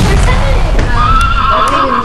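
A horse whinnies loudly and close, a high wavering neigh sliding over a dense noisy backdrop, brief and prominent.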